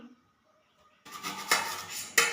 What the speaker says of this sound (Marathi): मी इथे एक ताट घेतलेला आहे चाकू आणत आहे मी